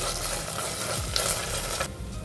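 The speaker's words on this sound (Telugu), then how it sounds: "ఇప్పుడు అల్లం వెల్లుల్లిపాయ పేస్ట్ వేసుకోవాలి చివాసన పోయేంత వరకు బాగా ఫ్రై చేసుకోవాలి" Onions with ginger garlic paste frying for tomato rice make a brief, close sizzle while a spoon stirs and scrapes the pan, the hiss thinning near the end, with no voice.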